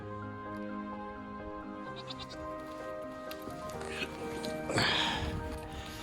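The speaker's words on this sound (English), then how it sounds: "Yeah, there's some goats." Goats bleating outdoors near a roadside, several wavering drawn-out calls overlapping, moderately close, mixed in with people talking and background noise.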